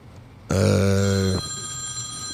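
A telephone rings once with a loud, buzzy electronic tone lasting under a second, close by, followed by a lingering faint hum.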